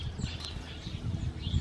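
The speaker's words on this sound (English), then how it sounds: "So many birds." Small birds chirp and tweet outdoors near a home yard where pigeons gather, faint and scattered high calls over a steady low background rumble.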